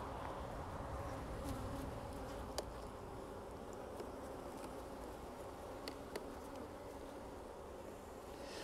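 Honey bees buzzing around hive combs being worked on, a steady dense droning hum of many insects with a few individual bees zipping close by, fairly quiet and with no talking.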